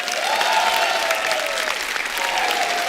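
A studio audience at The Kapil Sharma Show breaks into vigorous, continuous applause that fills the whole moment, with a faint tonal sound gliding beneath it.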